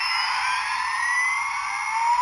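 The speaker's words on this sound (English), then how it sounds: "Bike revving again." A Thunderbirds Shadow bike toy gives an electronic revving effect, a steady high synthetic whine with a slowly rising pitch, loud and continuous for a couple of seconds.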